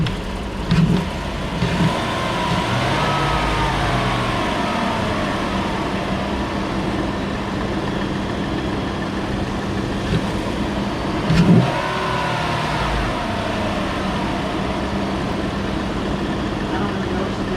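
A Chevrolet Silverado fitted with a Corsa dry intake filter idles and revs in a steady engine drone, with a couple of brief throttle blips, while people talk nearby.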